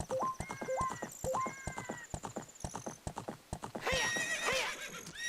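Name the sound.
horse neighing and hooves in video game Zelda Ocarina of Time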